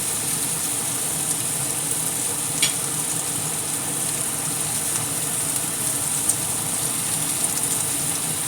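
Bacon sizzles in a pan with a steady, even hiss that runs without pause, broken only by a few faint pops and ticks.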